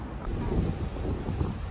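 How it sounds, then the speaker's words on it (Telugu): Strong wind buffets the microphone on a Belfast harbour, a steady, loud roar with low rumbling gusts and a faint wash of water underneath, no voices. "గాలి ఫుల్ గాలేస్తుంది ఇక్కడ."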